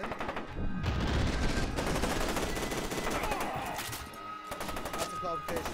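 Gunfire in a video game firefight, heard as dense, rapid bursts of automatic shots mixed with single cracks, loud and continuous with a brief lull near the end, while a voice talks over it.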